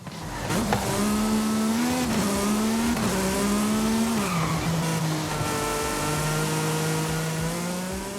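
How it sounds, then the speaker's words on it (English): A twin-turbo V8 car engine in Forza Horizon 5 revs loudly and continuously, its pitch climbing and dropping through several gear shifts with a breathy turbo character, heard alone at close range. "The two turbos take in so much air that it almost makes the car sound like it's breathing when you shift up and down."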